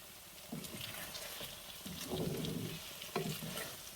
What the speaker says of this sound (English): add the eggplant. Mix that around.